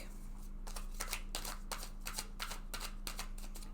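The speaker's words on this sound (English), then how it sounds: "shuffle this deck." A tarot card deck is riffle-shuffled in a series of quick papery bursts, about eight, spaced roughly half a second apart over a low steady hum, close and fairly soft.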